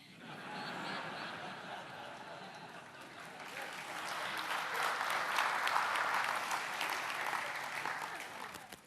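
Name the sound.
audience clapping at a talk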